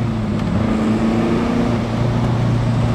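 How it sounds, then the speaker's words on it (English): A steady, loud Alfa Romeo GTV engine drone with a low harmonic hum, held at an even pitch as the car cruises along, with no voices over it. "note, doesn't it, that Alfa engine note? It makes you smile."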